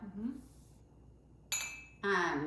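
Wine glasses clink together in a toast of Pinot Noir, two bright ringing touches close up after a moment of talk.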